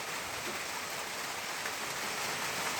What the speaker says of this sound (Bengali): বৃষ্টি হচ্ছে